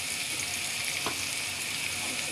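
Chopped garlic frying in a pan makes a dense, even hiss that holds steady throughout, with one faint stir in the middle and no voices.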